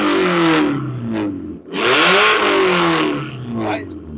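A modified Hyundai Xcent car engine revs hard and close in several loud bursts, climbing and falling in pitch with short pauses between the revs.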